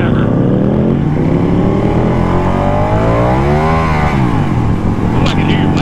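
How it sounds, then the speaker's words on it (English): A motorcycle engine revving hard, with the rear tire spinning, heard through a phone line: a loud, continuous engine drone whose pitch rises and falls in waves, compressed and steady, with a voice talking over it. "Oh, I can hear your bike. That sounds wicked, man."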